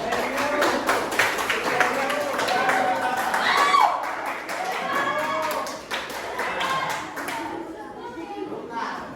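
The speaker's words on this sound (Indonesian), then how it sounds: "Berikan tepuk tangan." A group of children claps in a classroom, the scattered hand claps mixing with lively chatter and voices throughout before tapering off near the end.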